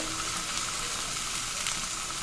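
Onions sautéing in a hot pan give a steady, close, bright sizzle with a constant crackling hiss throughout and no talking.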